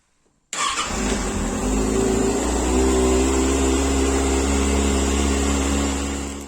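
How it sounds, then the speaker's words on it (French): After a moment of quiet, a 2024 Kawasaki Ninja ZX-6R sport motorcycle engine fires up abruptly and settles into a loud, steady, close-up idle. "Je vais vérifier si la moto démarre bien et si tout fonctionne."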